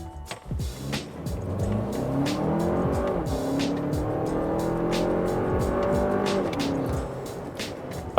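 A 2023 Lexus RX with a four-cylinder engine accelerates hard from a standstill to 80 km/h. A steady engine drone climbs in pitch, drops back and climbs again through several shifts, with faint clicks and thumps over it.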